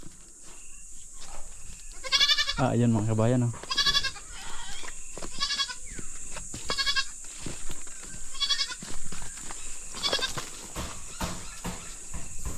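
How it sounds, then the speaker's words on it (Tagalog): A goat on a farm bleats repeatedly, one long wavering cry followed by several shorter calls spaced through the scene, fairly close, while someone speaks briefly and insects buzz steadily in the background. "Saan kaya gumala yung kambing?"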